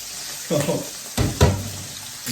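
Quail frying in oil in a fryer for a roast curry, a constant close sizzle with a few louder crackling bursts and stirring clatters.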